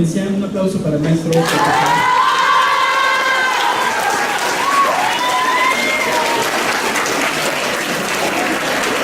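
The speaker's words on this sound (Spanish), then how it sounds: "Un aplauso para el maestro." An audience at an academic panel discussion on social work and gender applauds a speaker, a dense sustained clapping that swells after a brief spoken introduction and continues steadily, with some cheering and voices mixed in.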